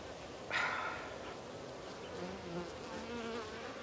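Bees buzz faintly around traps in a Colombian cloud forest in a low, wavering drone, one briefly passing closer and louder before fading back into the background.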